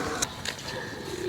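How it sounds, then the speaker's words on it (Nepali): A pigeon coos softly nearby in an outdoor setting, a few low, rounded calls standing out against faint background noise. "रहेछ परेवा"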